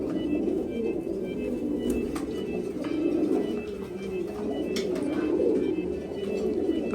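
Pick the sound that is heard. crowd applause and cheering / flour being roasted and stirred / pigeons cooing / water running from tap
pigeons cooing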